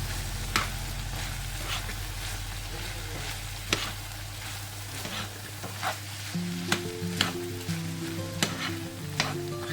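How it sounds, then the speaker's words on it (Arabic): Minced meat with crushed chickpeas and tomato paste in a hot pan gives a steady sizzle, punctuated by a string of sharp spoon clicks and scrapes against the pan, close by. "راح ادير عليه الحمص المجوش مالتي، صفيته من المية مالته، وملعقة من معجون الطماطم، اخلط كلها مع بعض"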